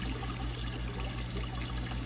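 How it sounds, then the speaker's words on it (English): Fresh, cool water pouring into a fish tank, a steady continuous trickle and splash running alone at low level from start to finish. "add some fresh, cool water from here"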